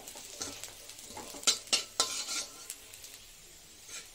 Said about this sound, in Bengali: রসুনটা একটু ভাজা হয়ে গেলে